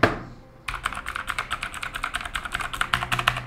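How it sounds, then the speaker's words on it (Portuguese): Rapid clacking keystrokes from an RGB mechanical keyboard, steady and close, after a brief quiet start; no voices. "o teclado é, realmente faz um barulho bastante diferente dos outros, mas é normal nestes teclados mecânicos"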